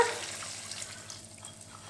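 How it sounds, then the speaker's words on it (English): Lemon juice trickles and splashes steadily through a strainer for a couple of seconds, a soft watery pour with faint sizzling from frying beneath it. "I'm just going to strain the lemon juice over"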